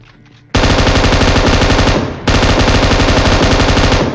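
Loud, sustained automatic gunfire from the mobile battle royale game PUBG Mobile comes as rapid bursts with a brief dip in the middle. The shots are close and dominant, and no one speaks.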